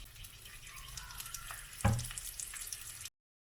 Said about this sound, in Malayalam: നമുക്ക് ചുവന്നുള്ളി ഒന്ന് വഴറ്റിയെടുക്കാം